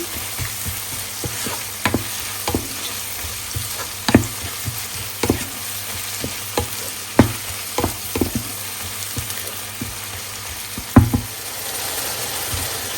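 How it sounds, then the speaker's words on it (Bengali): Egg frying and being stirred in a pan for home-style Bengali cooking: a steady sizzle runs throughout, punctuated by sharp, irregular scraping and knocking strokes of a spatula against the pan, close and moderately loud, with no talk. "আর এখানে এখন আমি ডিমটা ভুনা করতেছি।"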